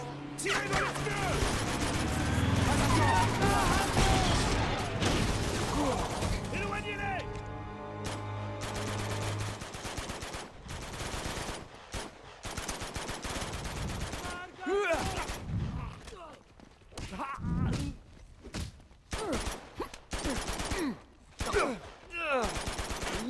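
Gunfire in Uncharted during a jungle fight in Borneo, with loud dense shooting at first, then scattered shots and impacts. It fades into sporadic combat noise.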